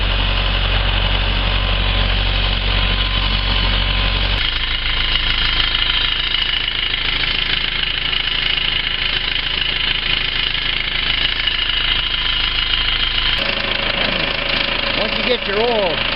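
The engine of an HDX750 utility vehicle runs steadily to warm its oil, with a loud, continuous droning idle and no break in the sound.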